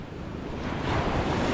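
Sea waves wash in steadily at the seaside, a broad continuous rushing surf that swells slightly louder midway, mixed with gusty wind buffeting the microphone and no voices.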